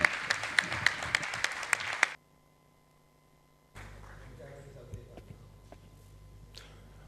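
An audience at a provincial economics congress breaks into a burst of applause for engineer Lifschitz, with sharp clapping that stops abruptly, followed by a silence and then a quieter room hum with faint movement.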